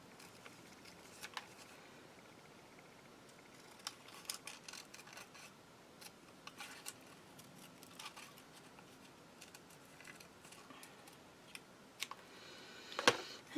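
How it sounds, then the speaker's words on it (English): Scissors fussy-cut paper for an art journal page, quiet scattered snips and light clicks spread irregularly across a hushed room, ending with a few sharper cuts. "And I will fussy cut it a bit."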